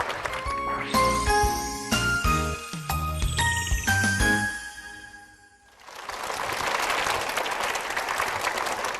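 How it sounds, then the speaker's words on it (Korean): Bright tinkling chime-like musical tones ring for about five seconds and fade to near silence. Then a Korean church congregation breaks into warm, sustained applause for two testimony speakers, dense, steady clapping filling the room. "두 분께 다시 한번 큰 박수 부탁드리겠습니다."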